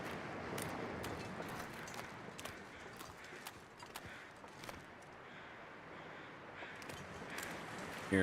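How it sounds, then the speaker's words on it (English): Crows caw in the video game The Long Dark, scattered calls over a steady outdoor wind-like ambience, fairly faint and intermittent across the stretch, with no talking. "Hearing more crows."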